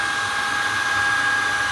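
Shark IZ201UK anti hair wrap cordless vacuum cleaner motor running steadily at high power, a loud continuous whine with a strong tonal hum, close and alone with no voices.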